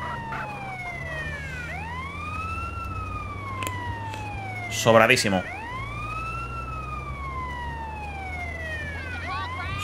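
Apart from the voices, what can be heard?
ambulance siren in video game GTA San Andreas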